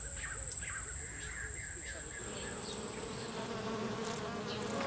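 Bees buzz in a steady, close drone while birds caw and call in the background, with a voice faintly present beneath.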